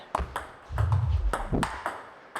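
A table tennis ball bounces in a quick series of sharp pings during a serve, paddle and table strikes close by, with low rumbling movement beneath.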